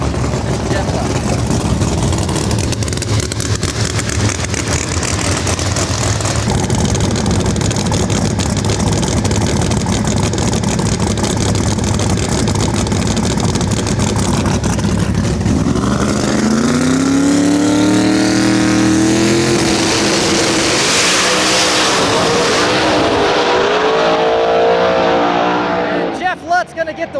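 Drag race cars, including an F5 Mustang, roaring loud and close at the strip, with heavy sustained engine noise and a rising high-revving launch sweep partway through, voices and cheering mixed in.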